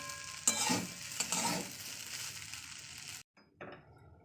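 Food fries gently over low heat in a pan while a utensil stirs and scrapes it, a soft steady sizzle broken by a few scraping strokes before it cuts off and a brief clatter follows.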